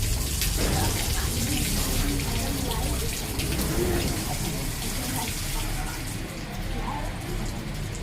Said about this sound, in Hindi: दोनों पैरों को टखनों समेत धोइए।